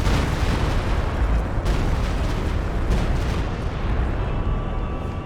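An artillery barrage in the strategy game Company of Heroes 2 rumbles as a dense, continuous roll of heavy explosions, with sharper blasts breaking through the low, loud rumble.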